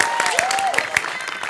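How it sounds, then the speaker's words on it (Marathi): Audience applause at a Marathi stage comedy show, a short burst of clapping from the crowd with a voice heard over it. "हा, टाळ्या वाजवा त्यांच्यासाठी."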